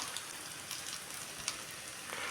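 Cut potato pieces fry in hot peanut oil, giving a steady, close, crackling sizzle with small pops scattered throughout and no voices.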